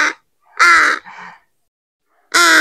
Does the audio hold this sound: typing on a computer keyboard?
no